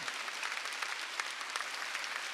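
A congregation applauds during a Sunday church worship service, a steady, even wash of clapping from a large room that continues without a break and sits at a moderate, somewhat distant level.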